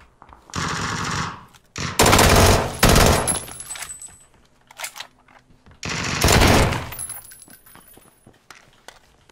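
Automatic rifle fire in PUBG, several loud, rapid bursts from close by, separated by short gaps and followed by fainter clinks and distant shots.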